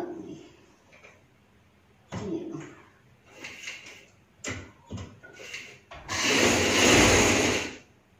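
A sewing machine stitching a trouser hem, running in several short bursts with pauses between, ending in a longer, louder continuous run of stitching.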